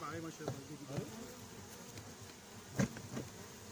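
Bees buzz around a hive inside a huge coral rock, a close, uneven drone with a few louder passes near the microphone and faint speech in the background.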